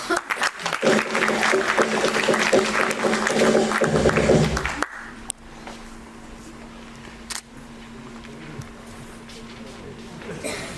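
On a comedy show stage, an audience gives a loud burst of clapping to welcome a guest, lasting about five seconds before cutting off, followed by quieter talk and a couple of sharp knocks.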